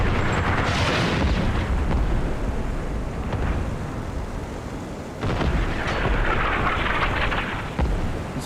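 Heavy tank and artillery fire in the Armored Brigade II wargame, with Abrams tanks in battle: loud continuous rumbling booms with several sharp blasts spread across the clip, no speech.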